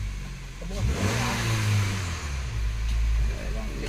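Honda City car engine cranking and catching, then running at a steady idle with some revving, close and loud, with people talking over it.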